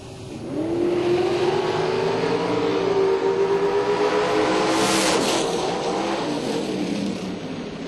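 Dragsters launching side by side in a shootout semifinal at a bracket race drag strip, a loud roaring engine wail rising in pitch and sweeping past, then fading down the track.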